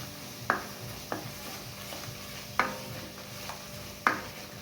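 Masala sautéed over a medium flame while being stirred in a pan for shev bhaji, with a soft continuous sizzle and four or five sharp scraping clinks of the spoon against the pan.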